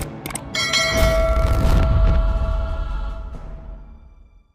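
A bright bell ding rings out with a sharp metallic strike, then lingers in a long shimmering decay that slowly fades to silence.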